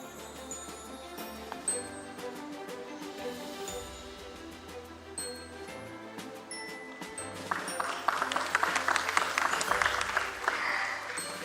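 Chiming, bell-like music plays alone at the NSDL listing ceremony at BSE, then an audience breaks into applause during the final seconds, a rising burst of clapping mixed with the tinkling tones.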